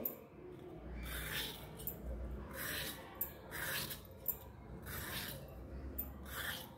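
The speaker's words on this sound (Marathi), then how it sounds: "बघा, ही अशी साल त्याची सर्व काढून घ्यायची." A ridge gourd's tough outer skin is scraped off with a peeler or knife in a home kitchen, giving a series of soft rasping strokes at a steady rhythm, close and fairly quiet, with no talking.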